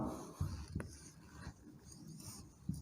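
Pen or marker writing out a formula for a statistics lesson, a few soft scratchy strokes and taps close by with no talk.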